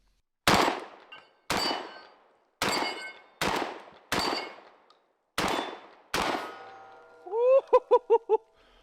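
Expedite 12 shotgun from Modern Warfare 2 fired in real life on a ranch with buckshot loads, seven loud separate blasts about a second apart, each with a ringing metallic tail, followed by a brief warbling tonal chirp.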